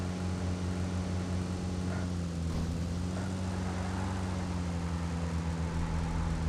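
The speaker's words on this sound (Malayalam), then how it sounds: "ഇവിടെ ഒരു ഹെലികോപ്റ്റർ വന്നിട്ടുണ്ട്." A helicopter in the mobile battle-royale game BGMI (PUBG Mobile) gives a continuous, steady, droning engine hum that stays constant and fairly close throughout, with no talking.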